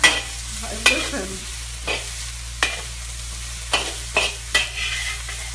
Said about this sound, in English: You just want to make sure you're always moving your veggies around so nothing sticks. You have the high heat.